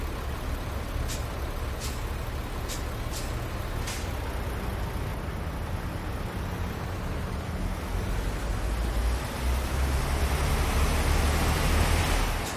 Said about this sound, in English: this truck's got weird